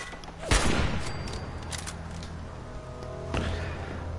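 Turret gunfire in Fallout 4 survival mode: a sharp loud burst near the start, then a rattling stretch and a second burst later, with distant game ambience between.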